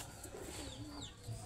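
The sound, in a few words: pigeons cooing in a breeding loft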